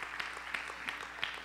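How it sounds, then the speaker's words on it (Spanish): A church congregation claps during a Spanish-language sermon, dense steady applause with a few sharper peaks, heard alone without speech. "Eso merece un aplauso"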